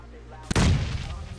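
A grenade goes off in PUBG Mobile, one sharp, close blast followed by a short rumbling tail, with faint voices around it.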